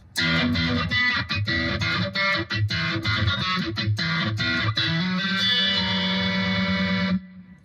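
A punchy, distorted electric bass slap phrase with rapid percussive attacks, ending on a sustained note that cuts off abruptly.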